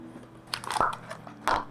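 A crunchy snack being bitten and chewed up close, with a few crisp, separate crunches standing out over a quiet background.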